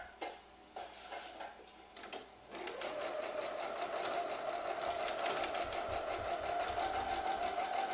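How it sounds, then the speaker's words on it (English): A sewing machine zigzags across the overlapped ends of a piece of elastic. A few soft handling taps come first, then a fast, steady mechanical chatter runs on continuously at close range, with no talk. "I'm just going to barely overlap the 2 ends and zigzag"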